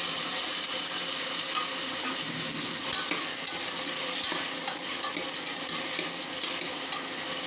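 Chopped tomatoes and overnight-soaked dry peas frying in oil for green soya rice: an even, dense sizzle close by, with intermittent spatula scrapes and stirring taps throughout and no speech.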